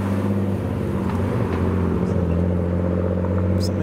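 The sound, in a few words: Mark II Mazda MX-5 pulling in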